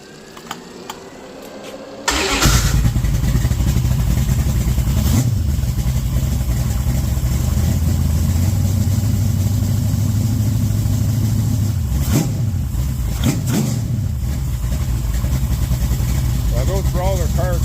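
A Mopar stroker 360/406 V8 with a Comp Thumper cam and Speed Master heads fires up on a dyno after a brief crank, then idles with a loud, lumpy, choppy rumble, with a few blips of revving and faint voices.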